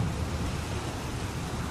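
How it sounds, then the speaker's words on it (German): A heavy downpour with thunder in the video game Heavy Rain roars as a dense, continuous wash of rain with a deep rumble beneath, loud and unbroken with no voices. "Es regnet wie aus Eimern."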